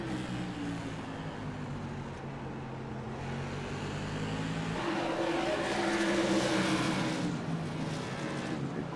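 Modified race car engines in iRacing whine at high pitch, one steady car droning, then another roars past louder with a rising, buzzing rev.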